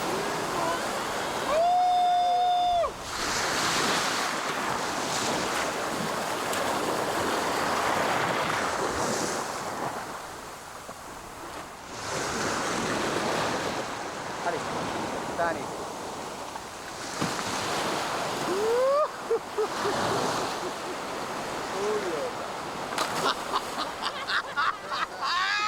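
Ocean surf in the Maldives washes and breaks in repeated surges, with heavy wind buffeting the microphone and a few brief background sounds between the waves.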